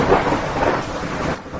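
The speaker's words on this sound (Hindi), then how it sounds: "3 दिन बीत गए लेकिन अभी तक बारिश बंद नहीं हुई।" Heavy rain pours steadily with low rumbling thunder in a cartoon storm scene, a dense, loud wash of noise filling the whole short stretch.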